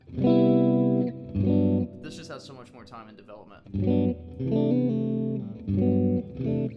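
Electric guitar played through an Axe-Fx 3 with a large hall reverb, sounding as sustained distorted chords in repeated bursts, with someone talking over a pause in the middle.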